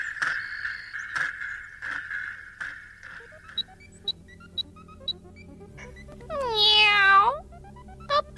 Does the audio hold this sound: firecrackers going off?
no